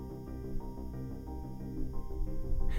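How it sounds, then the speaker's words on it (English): NASA sonification of deep-space data raised 57 octaves in pitch, a dense eerie wash of layered tones swelling steadily and growing louder toward the end, with no voices. "Recently, NASA remixed this data, scaling the pitch up by 57 octaves so we could hear it."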